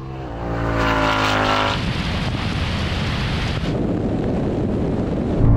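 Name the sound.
BMW 3.0 CSL accelerating in a drag race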